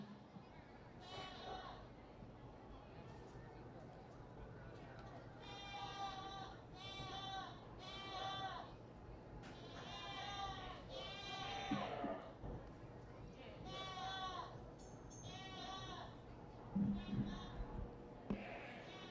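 Toggenburg dairy goats bleat repeatedly at a county 4H goat show, several loud, wavering calls spread across a steady hum of arena background noise.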